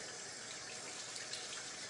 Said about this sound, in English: just rinsing my hands real quick